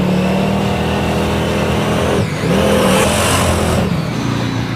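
A race car on a track brakes hard, its engine note dropping and shifting under a loud close drone with a brief squealing sweep mid-way, no talk.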